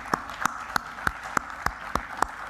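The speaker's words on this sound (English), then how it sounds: "Can we give a big applause for her" At a classical music festival in New Delhi, an audience gives sparse applause, heard as distinct spaced claps in a steady rhythm, moderately faint with no talk.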